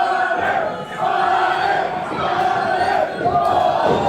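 A packed crowd at a Halloween-themed pro wrestling show, Capital City Wrestling's Monster Mash Rumble, cheering and shouting for the wrestler Butters, loud and continuous with rising yells throughout.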